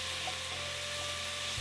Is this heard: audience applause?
no